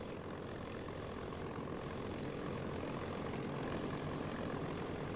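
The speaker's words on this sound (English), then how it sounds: "Doolittle's own bomber was the first to rumble down Hornet's pitching flight deck." Propeller engines of a B-25 Mitchell bomber, a loud, continuous droning roar that holds steady throughout, with no talk.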